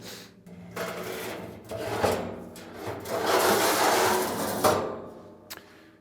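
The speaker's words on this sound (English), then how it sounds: "I opted for the upgraded rack system, so I'm gonna swap that out, put that in" A heavy, thick 304 stainless steel modular rack is swapped into a Pitts & Spitts Maverick 2000 pellet smoker: close metallic scraping and rubbing over several seconds, ending in a couple of sharp knocks.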